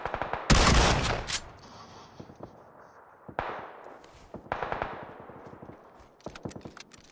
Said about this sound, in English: There's a lot of gunfire over there.